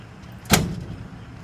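Cab door of a Komatsu PW170 wheeled excavator shutting with a single solid thump, close by, against a quiet background.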